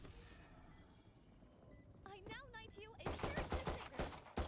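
Gunshots in a shooter video game, a rapid string of sharp cracks over the final second and a half, following quieter game sounds and a brief tonal chime; a voice speaks in the middle.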